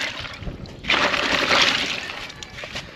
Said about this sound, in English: So we'll give it a rinse. This is the salt water, so do it in the salt water.